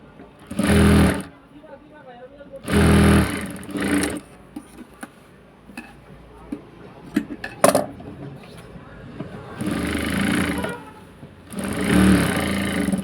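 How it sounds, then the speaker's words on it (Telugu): A sewing machine stitches a hook and buttonhole strip on fabric in loud, whirring bursts of a second or two, separated by quiet pauses with faint handling clicks between runs. "పాదం వరకు పెట్టేసి స్టిచ్చింగ్ చేసుకుంటే ఇదిగోండి నీట్గా."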